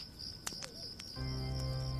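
Crickets chirp in a steady high trill against a quiet night background, with a few short clicks and a low hum joining toward the end.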